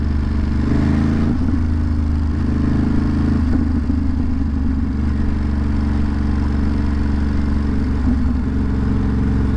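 Motorcycles on a busy bike day, engines rumbling steadily at close range with a few passes swelling and fading over continuous loud drone.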